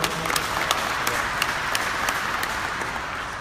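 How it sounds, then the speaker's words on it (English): An audience at a basketball shootout event applauds for former NBA player Kelenna Azubuike, steady crowd clapping with a few louder individual claps standing out. "Another round of applause for Kelenna, everyone."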